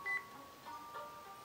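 Faint electronic beeps of a phone call ringing in a video game repeat at intervals over a quiet, steady background hum.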